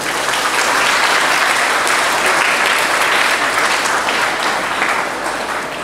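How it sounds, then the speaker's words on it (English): School audience at a freshers day event gives loud, sustained applause for the program organizers, dense clapping throughout that eases slightly near the end. "Let us give all of them a big round of applause."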